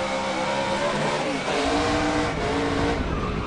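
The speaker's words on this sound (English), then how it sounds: "Did you hear him using that gas pedal to try to keep that thing from backing up in the outside wall?" Race car engine heard from an onboard camera during an oval race, a loud continuous roar with the throttle modulated up and down over a constant rushing of wind and tire noise.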